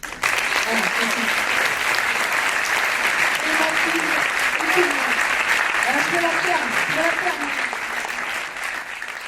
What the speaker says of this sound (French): je voudrais aussi qu'on l'applaudisse